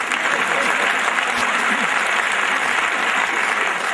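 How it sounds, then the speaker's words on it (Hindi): Audience at a Hindi kavi sammelan poetry gathering claps steadily and loudly throughout, a dense sustained wash of hand claps with faint voices mixed in. "आप उनके लिए ताली बजाइए।"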